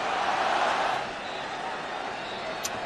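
Broad, steady crowd noise fills a stadium at the close of a Tottenham vs Barcelona match in California, a dense wash of applause and voices that swells in the first second and then holds at a slightly lower, even level.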